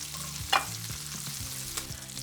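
Bacon fries in a pan until crispy, giving a steady sizzle with a brief louder crackle or stir midway, close and alone with no talk.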